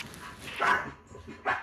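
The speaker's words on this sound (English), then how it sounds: "So I take it barking is his thing" A dog barks close by: two sharp barks about a second apart, with a shorter yelp-like burst before them.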